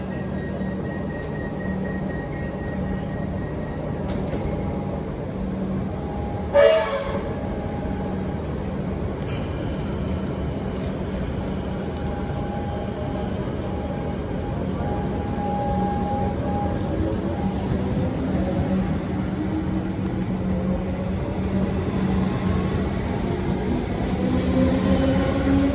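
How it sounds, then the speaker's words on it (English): Onboard a Melbourne Craigieburn line train, a continuous rumbling rail ride with rolling wheel noise, faint squeals and tonal hums, a brief louder clatter partway through, steady and enclosed with no talk. "I'm in train down Craigieburn service."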